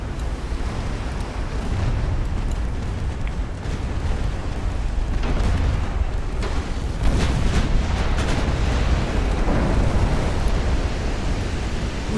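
Naval guns and explosions rumble during a battleship sinking in the Ultimate Admiral: Dreadnoughts video game, a dense, loud roar of layered booms and blasts that rolls on with no breaks and no talk.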